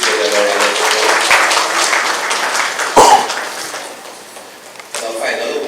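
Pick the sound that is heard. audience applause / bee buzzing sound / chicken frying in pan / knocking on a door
audience applause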